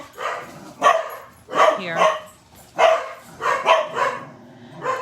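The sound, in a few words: dogs barking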